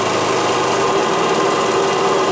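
Live steam engine of an RC model launch starting up outdoors, a loud, steady mechanical chuffing and whirring hum that runs continuously and close by with no talk.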